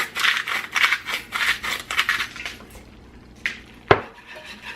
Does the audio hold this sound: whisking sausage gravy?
yes